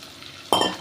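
Two or three long-sliced onions hit a hot pan for white biryani rice and break into a sudden loud sizzle after a quiet moment, the hiss lasting under half a second.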